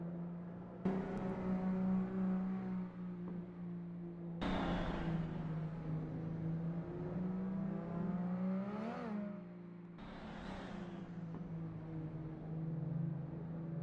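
BMW drift cars race at Brno Circuit, their engines a distant, faint, droning whine that swells and bends in pitch as throttles rise and fall, with sharp changes as cars pass in sequence.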